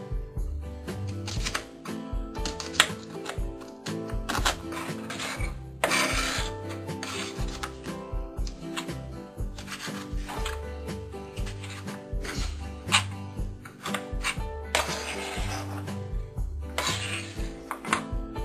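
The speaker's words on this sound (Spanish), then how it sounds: "Lo primero que vamos a hacer es picar la cebolla y el tomate" A knife finely chopping onion and tomato on a board, steady quick tapping and scraping cuts running continuously, close up, with kitchen clatter and no talk.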